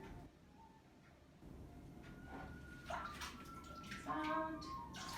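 A ceramic breakfast bowl dipped into a bucket of thick liquid glaze, giving swishing and gurgling sloshes that grow louder toward the end, with faint background sounds.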